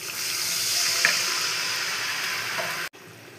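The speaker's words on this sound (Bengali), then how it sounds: "দিয়ে দেবো অল্প একটু পানি" A little water poured into frying spice paste with turmeric and chili powder for a chicken curry, giving a steady close hiss and sizzle that cuts off abruptly near the end.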